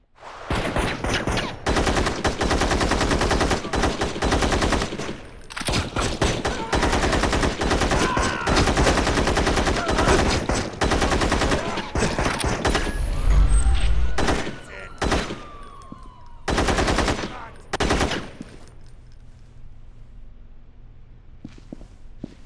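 Video-game gunfire in Gangstar Vegas: long, loud automatic bursts rattle almost nonstop, then break into shorter separate volleys with gaps of quiet, ending in near silence.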